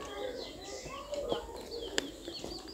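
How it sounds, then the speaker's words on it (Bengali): Small birds chirp and twitter outdoors in a village setting, a busy mix of light calls near and far with a few sharper notes standing out over steady background ambience. "গরম লাগছিল আর পাখিদের কিচিমিচির ডাক মাশাআল্লাহ সুন্দর লাগছে।"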